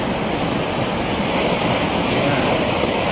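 Mountain water roars down the waterfall at Manjar Kund near Sasaram, Rohtas, swollen by early-season rain: a steady, loud, broadband rush that holds constant throughout with no voices.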